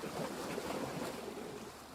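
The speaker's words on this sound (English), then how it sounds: "That's the surf from closer up." Ocean surf heard from close up, a steady rushing wash of breaking waves with no voices, fairly soft and continuous throughout.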